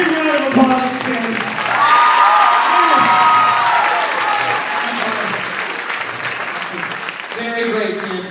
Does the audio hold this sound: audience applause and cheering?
yes